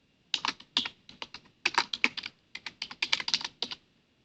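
Python code is typed on a computer keyboard in quick, close, crisp bursts of keystrokes separated by short pauses, clear and alone with no talk.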